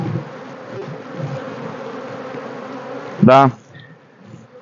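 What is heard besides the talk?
honey bees buzzing at beehive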